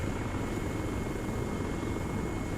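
Helicopter in Arma 3 with a battered screen, giving a steady, loud rotor and engine drone with no breaks.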